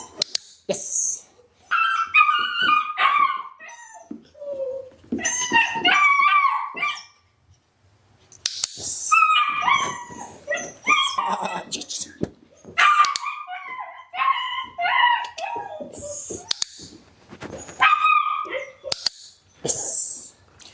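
High-drive Shepherd dogs whimper, yip and bark in bursts at close range, with short pauses between the excited vocal outbursts.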